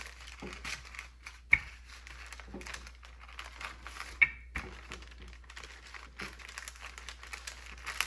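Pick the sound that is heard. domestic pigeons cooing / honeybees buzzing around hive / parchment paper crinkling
parchment paper crinkling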